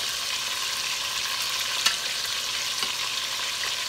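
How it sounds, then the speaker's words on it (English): Beef strips searing in hot oil in a pot, a steady, dense sizzle and crackle throughout with a couple of brief sharper pops, no voices. "I want to sear this meat off on every side here"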